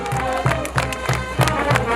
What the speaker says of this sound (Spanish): Los fuertes aplausos, señoras y señores.